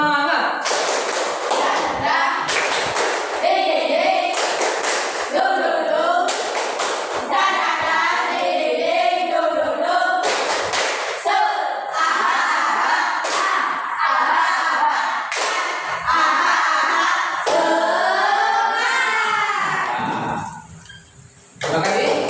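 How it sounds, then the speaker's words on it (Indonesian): A classroom of children performs a rhythmic 'tepuk semangat' clapping chant, sharp bursts of hand claps in patterned groups alternating with loud chanted voices, ending in a short cheer. "Tepuk semangat."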